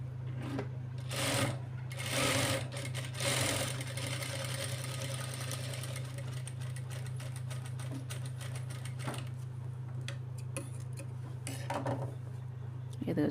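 A sewing machine stitches the hem of a child's lehenga blouse with a steady, close mechanical whir and rapid needle ticking, broken by short stops and restarts and a few louder clatters.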